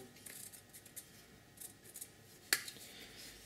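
Scissors snipping the hair of a custom X-Treme Rogue statue: a few light, close snips scattered through a quiet room, with one sharper, brighter cut near the end.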